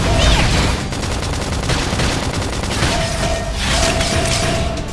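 Video game battle gunfire in Xenoblade Chronicles X: Definitive Edition on Nintendo Switch, a loud, dense volley of rapid shots mixed with mechanical clanks and tonal effect chimes, continuous throughout.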